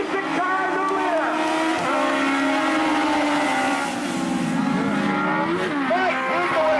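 Race cars roar around the dirt oval at Tosa Raceway Park, engines droning and rising in pitch as they run side by side, a steady loud blend under a commentator's voice.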